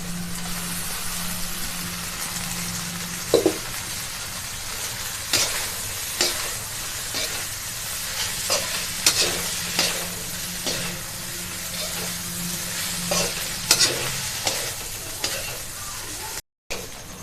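Steady sizzling of drained pasta stir-frying in tempering in a pan, with repeated scraping and clanking strokes of a spatula stirring it, no talking.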